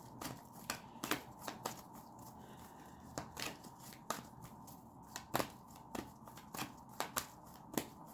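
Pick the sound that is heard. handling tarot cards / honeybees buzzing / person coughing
handling tarot cards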